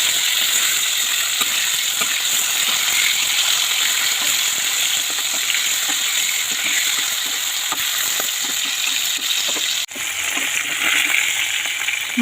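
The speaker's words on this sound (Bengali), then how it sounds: "এখন মাছগুলোকে একে একে আমি সব ভেজে নেব।" Pangas fish pieces frying in mustard oil in a wok, giving a loud, continuous close sizzle with occasional clinks of stirring and turning, no voices.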